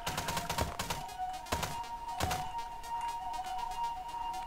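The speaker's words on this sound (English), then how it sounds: "It's just a gun." Sharp gunshots in an indie video game, a quick rapid cluster followed by two single spaced shots, over a steady tonal game hum.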